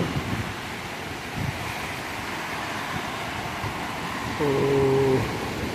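Sea waves break and wash near a fisherman standing in the surf, making a steady broadband roar mixed with wind buffeting the microphone. A brief tonal sound rises near the end.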